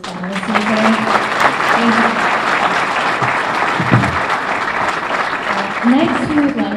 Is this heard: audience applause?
yes